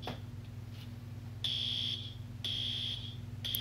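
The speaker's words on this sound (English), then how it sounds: "Sound the alarm." A fire alarm sounds in a wood-burning craft workspace, giving three long, loud electronic beeps about a second apart over a steady low hum, with no voices.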